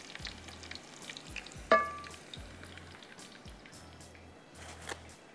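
Ginger garlic paste and spices fry in a pot for masala pulao, a soft, close sizzle with scattered crackles and a sharp clink of a utensil partway through.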